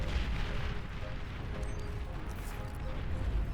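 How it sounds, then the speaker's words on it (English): Cluster artillery fires in a large real-time strategy video game battle, heard as a dense, continuous rumble of booms and distant blasts that fills the whole stretch at a steady loud level. "You can tell it's a firing off cluster artillery."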